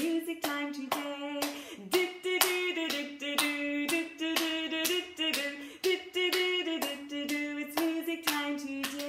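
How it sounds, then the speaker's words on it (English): Hands clap along in a steady beat to a sung children's music-time song, the claps sharp and regular over the melody, with a voice singing throughout. "Let's clap and sing tra la la la."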